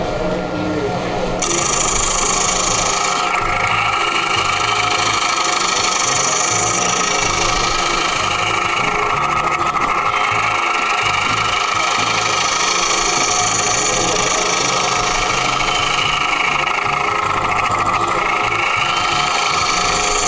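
A wood lathe turns a green wood blank while a round cutter makes continuous back-and-forth push and pull cuts, never leaving the tool rest. A steady, loud scraping hum runs throughout with constant cutting noise.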